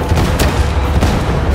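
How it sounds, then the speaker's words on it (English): Dense, booming blasts and rapid gunfire rumble continuously in a Warhammer 40,000 Darktide firefight, heavy low-end explosions layered with crackling shots and no clear pause. "I blew myself up again."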